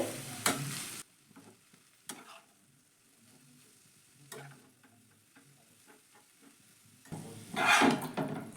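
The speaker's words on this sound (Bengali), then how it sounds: "লবণটা ভালো করে মিশিয়ে নেব বাঁধাকপির মধ্যে" Salt is stirred into shredded cabbage in a pan, with soft scraping and rustling strokes over a faint sizzle, a few sharper knocks of the utensil against the pan, and a louder burst of mixing at the end.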